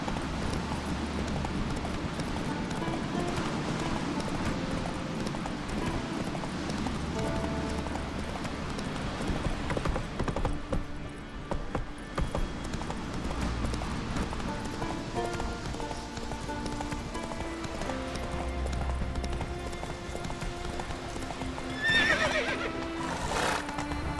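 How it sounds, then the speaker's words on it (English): A horse gallops and neighs in The Witcher 3 video game, with steady hoofbeats under rolling game sounds and shrill whinnies breaking through, clearest near the end. "Whoa there, Roach. Move it! Giddy up."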